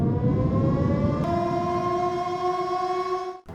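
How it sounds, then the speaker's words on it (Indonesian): A loud, sustained siren wail with steady harmonic tones, holding a constant pitch that shifts slightly partway through, then cutting off abruptly at the end. "Sirine pun terdengar lagi dan Elisa pun terbangun untuk memeriksanya."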